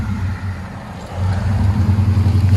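A Chevy/GMC 1500 pickup with a 5.7L V8 and MagnaFlow True Duals exhaust idles with a deep rumble, then revs up into a louder, throbbing drone, close and loud.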